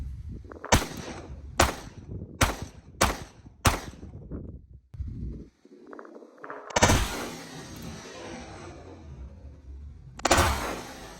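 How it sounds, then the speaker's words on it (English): Five sharp, loud shots ring out in quick, steady succession from a Glock 19X pistol fitted with a compensator, followed by a rustling, noisy stretch and one more burst of sound near the end. "All right, 5 more rounds with the comp added, and let's see if there's any difference here."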